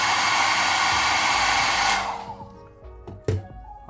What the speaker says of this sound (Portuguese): ou eu posso agilizar até a secagem